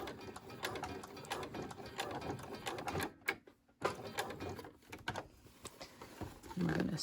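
A sewing machine stitches denim jeans in short, uneven rattling bursts with a brief pause midway, close by and fairly quiet, with faint handling sounds.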